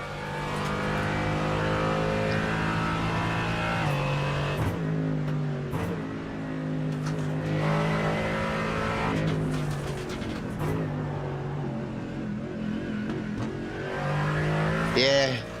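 Onboard a Mercedes GT4 race car during a lap, the engine drones loud and steady, rising and falling through gear changes and braking, with commentators talking over it.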